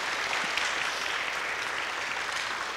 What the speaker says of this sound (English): Now you got to clap.